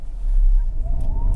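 Hyundai Santa Fe Hybrid launching hard from a standstill, a low rumbling drive note swelling steadily as it pulls away, with a faint tone rising in pitch through the second half.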